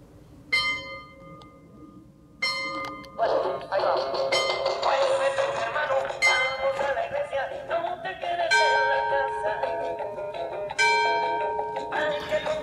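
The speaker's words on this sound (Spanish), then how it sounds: "Las campanas de la iglesia están dando las 6 de la tarde." Church bells ring six o'clock in the evening in slow, resonant strokes, each chime hanging and overlapping the next, with a few louder strikes standing out near the end.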